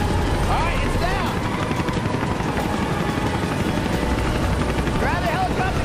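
A helicopter hovers close and loud, its rotor thumping steadily without a break and covering everything, with only faint shouted voices rising above it at times.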